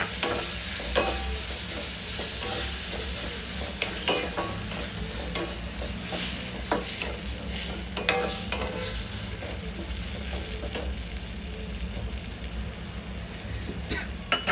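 Chopped tomatoes go into a pan of frying onion and asafoetida, setting off a steady close sizzle with occasional sharp crackles and spoon scrapes, loud and continuous with no voices.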